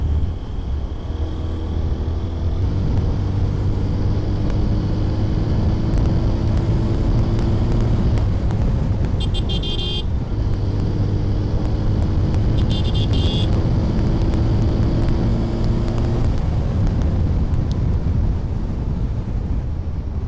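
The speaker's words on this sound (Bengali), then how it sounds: "দেখুন অ্যাকচুয়ালি গাড়িটা আমি 7000 আরপিএমের উপরে তুললাম" TVS Apache RTR 160 4V motorcycle engine held above 7000 rpm while riding, a steady loud droning hum with wind rush throughout, tone holding fairly constant for about twenty seconds.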